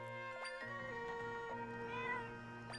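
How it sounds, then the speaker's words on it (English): A cat meows in the Zelda: Echoes of Wisdom video game, a short rising-and-falling mew heard clearly over sustained tonal game music, with soft chime-like effects around it. "It's purring."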